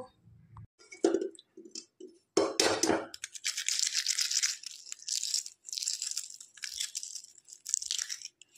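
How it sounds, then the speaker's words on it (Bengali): Boiled egg and potato being peeled by hand for Bengali egg fried rice: a few soft taps and cracks of shell, then a run of close crackly tearing and scraping bursts, intermittent and fairly quiet, with no voices. "ডিম আলুটা সিদ্ধ হয়ে গেছে, এটা ছাড়িয়ে নেব।"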